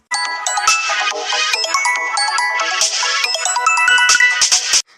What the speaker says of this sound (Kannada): ಅಂತೂ ಇಂತೂ ರೊಚ್ಚು ಫೋನ್ ಮಾಡಿಲು